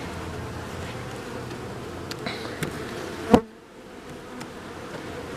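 Steady low insect buzzing of honeybees at an open hive fills the clip, close and continuous, broken by a brief thump before the hum drops quieter.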